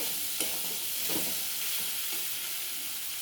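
Fried potatoes being stir-fried with spices in a pan for chickpea ghugni, a soft steady sizzle with a few scraping stirs of the spoon, close up and fairly quiet.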